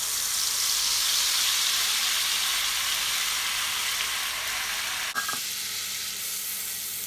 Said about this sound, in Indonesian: tumis bumbu yang dihaluskan sampai benar-benar matang